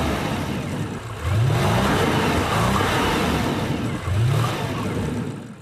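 Audi S8 luxury sedan with a 4-liter 8-cylinder gasoline engine making 382 kW accelerates in two bursts, a rising mid-range growl climbing through the revs, fairly close and loud.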